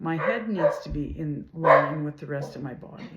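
A dog barks in the background during a swimming lesson while a person talks over it, the barks partly mixed in with the speech.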